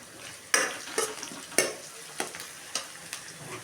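Radishes frying in a tempering, stirred with a spoon: a steady soft sizzle broken by about six sharp scraping stirs against the pan, close and alone without talk.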